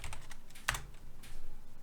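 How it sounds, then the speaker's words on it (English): A few crisp, close clicks come from keys being pressed on a computer keyboard while working in DaVinci Resolve's Fusion compositing software, with one sharper press standing out among quieter taps. "Let's press 2 on the keyboard to get our background in"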